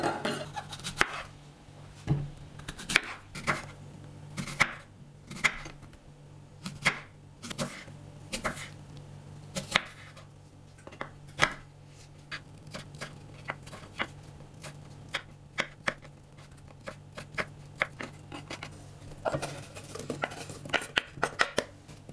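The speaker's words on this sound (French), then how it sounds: "j'ai volontairement attendu de couper les pommes à cette étape" Apples for an apple cake are cut by hand in a kitchen, with repeated sharp cuts and taps coming in irregular bursts, close and fairly quiet.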